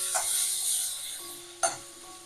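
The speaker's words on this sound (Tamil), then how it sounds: "நல்ல ஒரு கண்ணாடி பதத்துக்கு வதக்கிக்கணும்" Onion paste sautéing in oil until glassy makes a close, bright hiss that fades slightly, then a sudden short clank of a ladle or spoon against the pan near the end.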